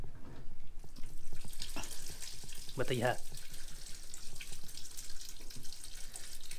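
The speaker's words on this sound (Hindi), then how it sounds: "इसको हम टीने में डाल दिए और उसके बाद इसका पानी डालने जा रहे हैं।" Water is poured into a tin holding soaked, fermented mahua flowers for making country liquor, a running splash and trickle with brief louder pouring bursts, mixed with nearby talking.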